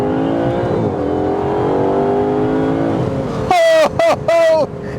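A 715-horsepower Aston Martin DBS Superleggera Volante, a 2020 convertible, accelerates hard in manual paddle-shift mode, its engine droning steadily and rising in pitch before sharp revving bursts near the end, heard close under an excited voice.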